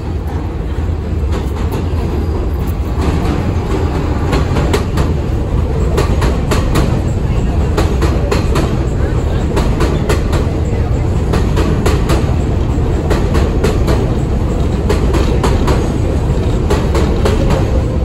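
A New York City subway 7 train on the IRT Flushing Line rumbles loudly through Court Sq-23 St station, with continuous heavy roar and rhythmic clickety-clack of wheels over rail joints throughout.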